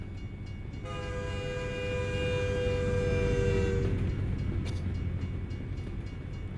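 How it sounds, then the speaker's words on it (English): In the American Truck Simulator game, a freight train rumbles past while its horn blows one long, loud chord before cutting off, leaving the steady roll of the wagons. "I can hear a freight train, but I can't see it."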